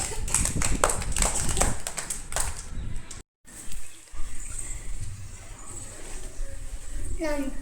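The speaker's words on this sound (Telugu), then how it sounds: "సామ్యాల క్లాప్స్ కొట్టండి గట్టిగా" Children clap loudly in a classroom, a dense, fast burst of many hands at the start, then a brief cut to quieter room sound with voices.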